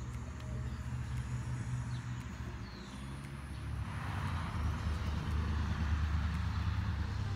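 A car driving along a road, a steady low engine and road rumble that holds close and continuous throughout, swelling slightly louder toward the end.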